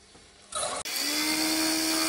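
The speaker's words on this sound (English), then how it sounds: "Now I've started using just a scraper for this now." A scraper cuts into a large walnut bowl spinning on a wood lathe, kicking in after a brief pause as a loud, steady hissing shear over the motor's whine, continuous to the end with no talk.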